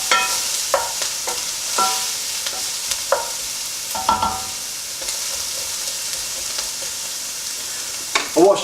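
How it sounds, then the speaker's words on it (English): Garlic and beef mince sweating in a pot, with a steady soft sizzle and a scattering of scraping stirring strokes from a utensil, close and fairly loud, no talk. "the next ingredients we're going to put in is the garlic, and then we're going to put the mince in"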